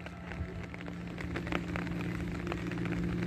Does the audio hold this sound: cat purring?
no